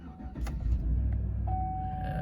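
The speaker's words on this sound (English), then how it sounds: "I'm gonna go ahead and start the truck up" A 2008-2011 GM truck engine starts and settles into a low steady idle, close and rumbling, with a thin tone from the cabin running alongside it.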